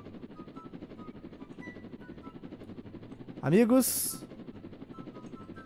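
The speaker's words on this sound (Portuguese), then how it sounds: "Eu vou tentar descer ali com o helicóptero." A helicopter in the Roblox game Jailbreak, near a prison, whirs with a short loud surge partway through, while someone talks in Portuguese over game background sound.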